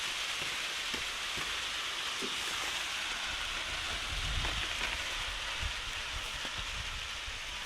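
Steady rain falls over farm fields after a downpour, a continuous hiss of drops on the ground with scattered low thumps, moderately loud and even throughout, with no voices.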